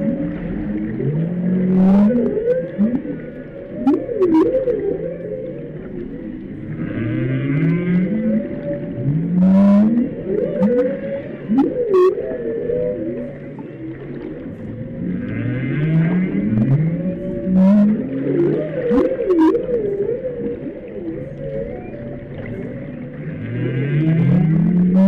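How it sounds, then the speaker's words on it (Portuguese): A humpback whale sings underwater, with loud, recurring swooping moans and groans and scattered clicks, repeating in phrases across the whole stretch with no talk. "O canto mais conhecido é o da baleia jubarte."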